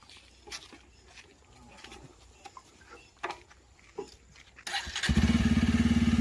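A motorcycle engine rumbles up loudly near the end, its steady throbbing starting after a stretch of scattered quieter noises.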